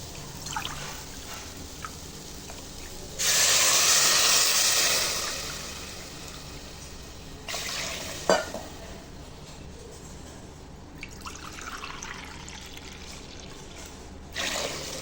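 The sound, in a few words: pouring water into rice and lentils in a pot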